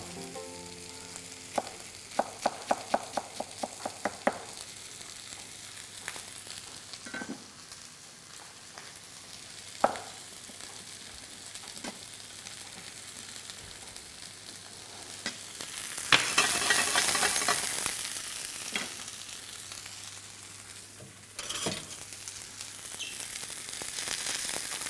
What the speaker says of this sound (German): Erstmal von einer Seite anrösten lassen, dann drehen wir und dann kommt der Knoblauch mit dazu.